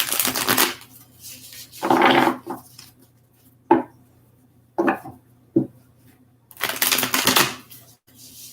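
Several separate bursts of rapid riffling and clacking, close by, with short quiet gaps between; the first and last bursts are longer and louder.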